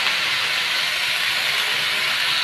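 Potato, carrot, cabbage and peas fry in a pan with turmeric and salt, giving off a steady, close, bright sizzling hiss that holds evenly throughout with no speech.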